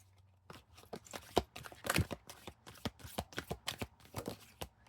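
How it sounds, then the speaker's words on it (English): Greenwood Tarot deck being mixed and shuffled by hand, a run of crisp papery riffles and slaps close up, repeated bursts in an irregular rhythm with no talking. "Mix the cards up a little bit here before I really start to shuffle."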